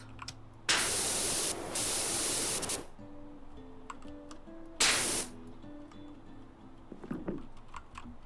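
A pressure washer sprays a helicopter rotor in PowerWash Simulator, with two loud, hissing bursts of spray, the first long and the second short, separated by quieter game sounds.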